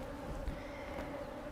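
Honeybees buzzing as they are misted with warm syrup, a steady close hum of many wings with no talk.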